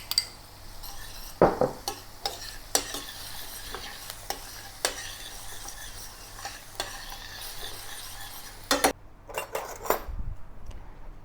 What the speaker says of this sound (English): Halfway sauteing the garlic and onion, add the dry shrimp and the curry leaves.